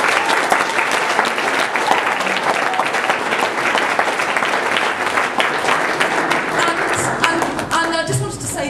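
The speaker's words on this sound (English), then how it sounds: "and give them a clap" An audience at a prize shortlist debate gives a sustained, dense round of applause that stays loud and even for nearly nine seconds, with faint talking at the tail.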